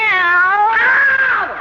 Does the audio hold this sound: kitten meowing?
yes